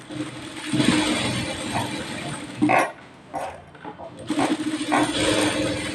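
A sewing machine runs a double line of stitching on a blouse, a steady mechanical whirr that stops briefly midway and then starts up again, close and fairly loud.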